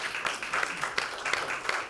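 Audience applause for a speaker at a University of Miami wellness and community event, a steady wash of clapping with brief swells, moderately near and unbroken for the full two seconds.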